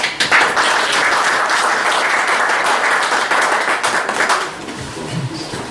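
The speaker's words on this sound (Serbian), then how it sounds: "da sa aplauzom pozdravimo naših današnjih predavača Dalibora Turkmajera." An audience at a lecture applauds steadily for several seconds, dense clapping that fades out toward the end.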